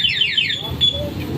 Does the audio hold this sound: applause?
no